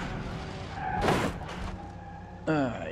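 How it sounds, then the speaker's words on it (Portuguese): Car crash in the driving game BeamNG.drive, the rear of the car smashed: a loud burst of crunching impact noise, a second quieter crash, then a sharp metallic scrape, with talk over the engine. "despedacei a traseira do carro."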